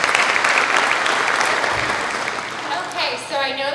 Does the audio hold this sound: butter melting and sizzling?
no